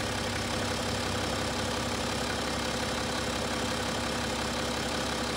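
BMW 330d E90 LCI with the 3.0-litre N57D30 diesel idling after an oil change with ceramic and diesel additives, a dense steady rumble with a fine rhythmic knock, loud and constant with no talking.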